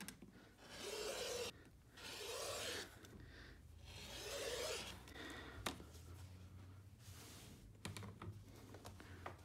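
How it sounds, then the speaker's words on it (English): Fabric strips for a snow cabin quilt being cut, heard as repeated rasping, scraping strokes of a blade through cloth on a cutting surface, each pass lasting a second or two, with small clicks in between. "then you cut all your fabric strips according to the pattern"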